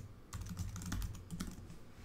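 Username and password are typed on a Mac computer keyboard, a quick, close run of soft key clicks starting after a brief pause and continuing steadily for about two seconds, with no talking.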